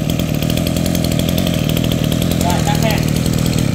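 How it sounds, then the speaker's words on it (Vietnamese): A used Japanese two-stroke grass cutter engine runs steadily at a loud, buzzing idle close by, while someone talks over it. "Máy nghe động cơ tiếng máy như máy mới cô chú"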